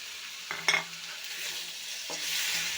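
Cabbage and koi fish curry base frying in a pan, steady soft sizzle with two sharp metal-on-pan scrapes of stirring, close and moderately loud, no voices.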